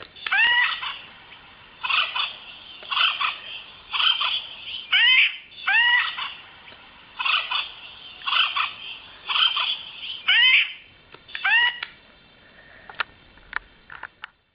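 A girl imitates the call of an acorn woodpecker with her voice, repeating a series of loud, nasal, squawking bursts in a quick rhythm with short pauses between, alone and close.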